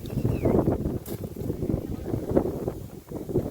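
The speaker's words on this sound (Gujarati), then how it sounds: "પવન છે બહુ જ." Rough, gusty wind buffets the microphone throughout at a farm orchard during tamarind picking, rising and falling in strong blasts, with no clear voices.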